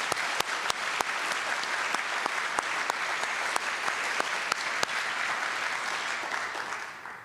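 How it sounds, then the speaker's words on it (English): An awards-gala audience applauds an honoree in a steady burst of clapping, with a few sharp louder claps standing out, fading slightly at the end, no speech. "So let's give him one last round of applause."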